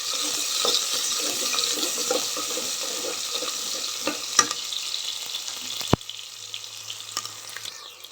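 Sliced onions sizzle in a pan while being stirred for a potato sago khichdi, a steady frying hiss with scraping and clinking at close range, a sharp knock near the end, no talking.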